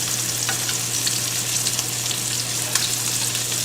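Garlic frying in butter in a pan, a loud, continuous close sizzle with faint crackles and stirring scrapes and no talking.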